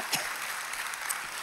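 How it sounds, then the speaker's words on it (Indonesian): Applause from a church congregation during a Sunday worship service in Semarang, heard as a steady, moderately faint wash of many hands clapping together, with no voices over it. "Beri tepuk tangan yang meriah"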